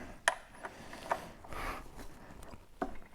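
A 1968 Fiat 500 engine turned over slowly by hand gives sparse, close mechanical clicks and ratcheting knocks, a few separated bursts with quiet gaps between them.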